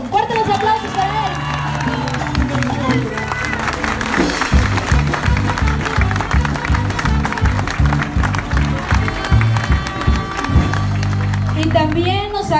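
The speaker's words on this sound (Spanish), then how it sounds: "¡Fuertes los aplausos para él!" Crowd applause and cheering for the municipal president at a public health caravan event in Huixtla, Chiapas, with steady clapping under band music and brass for the whole stretch.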